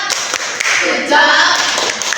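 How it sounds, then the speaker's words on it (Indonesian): A classroom group claps hands together in a quick, dense round of applause lasting about two seconds, close and fairly loud with some scattered taps, and no voices over it. "Tepuk tangan untuk kelompok kinestetik."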